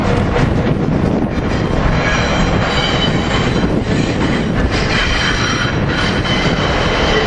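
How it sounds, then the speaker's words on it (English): An Amtrak Acela train, power cars 2032 and 2034, runs through Philadelphia's 30th Street station with a loud, continuous roar of wheels and rail noise, thin squealing tones riding on top throughout. "Here we got Acela train 2167 running about a few minutes late"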